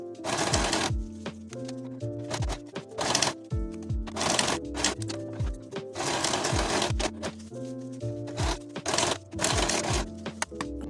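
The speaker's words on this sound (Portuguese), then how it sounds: "passar a costura reta e zigue-zague para o acabamento" A sewing machine stitches straight and zigzag seams on a prom dress in rapid bursts, pausing and restarting repeatedly, close and loud with no talk.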